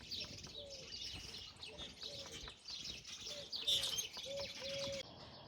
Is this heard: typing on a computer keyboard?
no